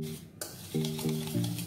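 A whisk works butter and powdered sugar together in a bowl, giving soft scraping and stirring strokes with a few light taps against the bowl. The sounds are close and fairly quiet, and nobody speaks.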